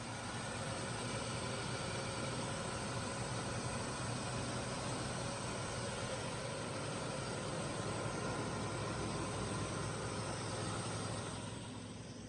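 A 1985 Ford F150 4x4 with a 4.9 litre inline six, running steadily at a constant loud drone, close by and with no speech.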